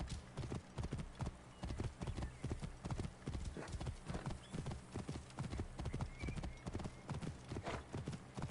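A stolen horse trots in a video game, its hooves clip-clopping in a steady, even rhythm that keeps going throughout, faint and alone.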